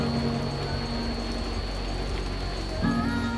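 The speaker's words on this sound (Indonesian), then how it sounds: "Malam harinya hujan semakin deras." Heavy night rain at a hillside villa in Puncak, Bogor, a steady dense hiss of falling water with a faint mechanical tone running through it, no voices.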